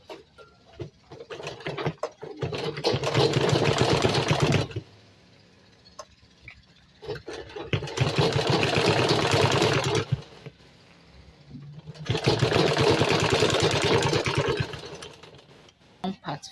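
A sewing machine stitches bag material in three sustained loud whirring bursts with short pauses between them. Talking is heard during the pauses.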